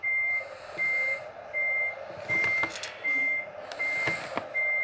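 A truck backing up, with its reversing alarm sending out steady, evenly spaced beeps, about seven in five seconds, over an engine rumble. A few sharp clanks and bumps are mixed in nearby.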